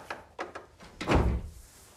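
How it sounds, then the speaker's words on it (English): An interior door is pushed shut in a family home, landing as a single fairly loud thud after a few lighter knocks and movements. "Shut the door, Hugh."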